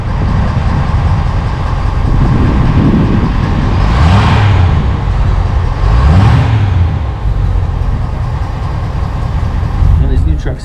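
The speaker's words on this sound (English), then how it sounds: "We'll give some solid baby revs back here." A lifted 2022 Ford F350 pickup with a BDS suspension lift, its engine idling loudly outdoors before two firm revs that rise and fall in quick succession, then settling back to a steady rumble.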